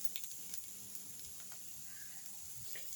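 Tomato masala frying on a low flame, a faint steady sizzle and hiss with occasional soft stirring scrapes, close but quiet and without talk.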